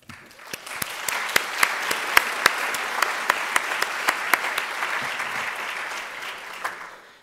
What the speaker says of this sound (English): everyone in this room deserves a huge round of applause for being here today